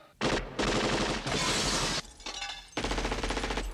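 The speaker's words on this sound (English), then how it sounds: "Shoot the glass." Gunfire and shattering glass from an action film scene in a Die Hard movie: loud bursts of rapid shots with crashing, breaking glass, in several dense blasts separated by brief pauses.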